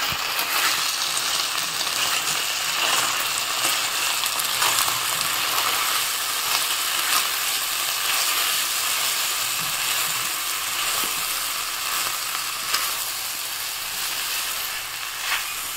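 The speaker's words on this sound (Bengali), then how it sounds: "ভালো করে নেড়ে চেড়ে মশলাটা কষিয়ে নেব" Spice paste with turmeric and salt sizzling loudly in a pan for a long stretch, a dense even hiss with occasional scrapes and knocks as it is stirred, no speech.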